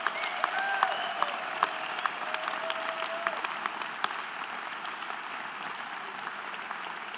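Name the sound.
applause for award winners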